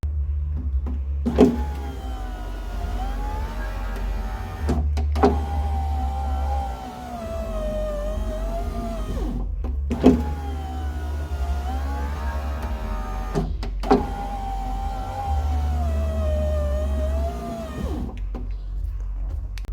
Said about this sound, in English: the window motor works, mechanism works, there is a little bit of play in it